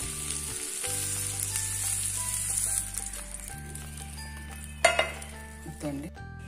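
Fried tempering tipped into sago buttermilk soup, giving a loud close sizzle that rises in a burst partway through, with a few utensil clinks against the pot.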